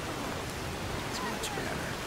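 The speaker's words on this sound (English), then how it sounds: "This rain is just too much." Steady rain in the video game Skyrim near a mill area, a dense even hiss that fills the whole moment with no break.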